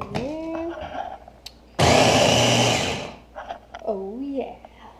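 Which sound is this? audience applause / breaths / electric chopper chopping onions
electric chopper chopping onions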